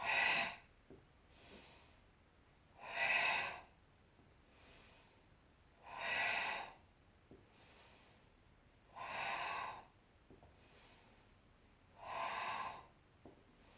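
Rhythmic breathing during a pillow balancing core exercise, five slow audible breaths spaced about three seconds apart, each a soft airy whoosh close to the listener, with quiet pauses between and no talking.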